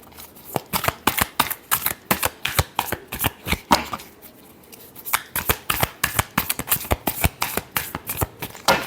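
Tarot cards are shuffled by hand in a steady run of sharp riffling snaps, close and crisp, with a brief pause midway before the rhythmic shuffling resumes.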